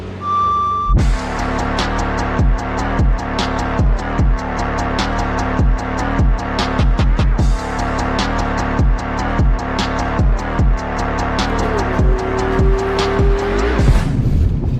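A Ferrari 296 supercar drives hard, its engine loud and close with rapid rhythmic gear-change bursts and rising revs, and brief tire squeal near the end.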